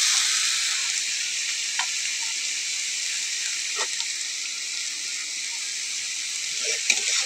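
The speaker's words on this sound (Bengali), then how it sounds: "সবগুলো মিশিয়ে ভালো করে একটু ভেজে নেবো" Chopped garlic and ginger frying in hot oil for a Bengali bhindi curry, a steady bright sizzle with a few faint stirring clicks, close and continuous, no talking.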